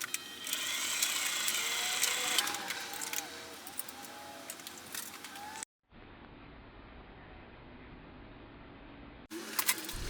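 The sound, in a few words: sewing machine stitching nylon webbing pedal straps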